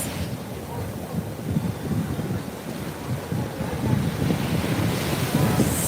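Ocean waves break and wash at a beach in a steady, loud roar, with heavy wind buffeting the microphone throughout and no clear talk.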